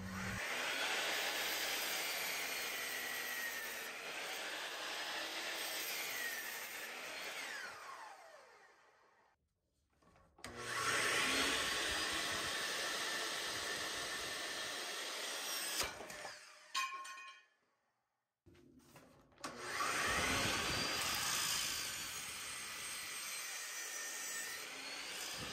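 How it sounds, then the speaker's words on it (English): A 12-inch blade saw cuts through a 4x4 piece of lumber, powered by an Etaker M2000 power station: a loud, sustained whining cut in three long bursts separated by brief pauses. "I'm going to cut 4x4 piece of lumber with 12-inch blade saw."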